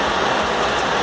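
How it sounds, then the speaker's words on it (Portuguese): Heavy rain drums on an old car, heard from inside the cabin as a dense, steady wash of patter, loud and close without pause. "Caramba, tá uma chuva da pega."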